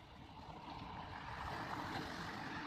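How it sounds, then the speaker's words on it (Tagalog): Big ocean waves roll in along a shoreline, a faint, steady rushing wash of water that swells slightly louder partway through, with no voices. "Tatlong sunod-sunod na malalakas na alon."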